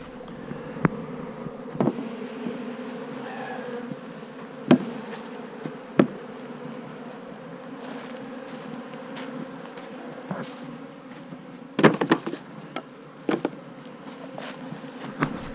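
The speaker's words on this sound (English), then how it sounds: "Got quite a lot of bees here." A dense swarm of honey bees hums steadily in a bee yard, a continuous close buzz with scattered sharp knocks and clicks over it.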